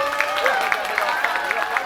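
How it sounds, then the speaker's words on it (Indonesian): An audience claps steadily at an indoor event, a dense patter of hands with faint crowd murmur, short and fairly loud. "Tepuk tangannya buat Thorik."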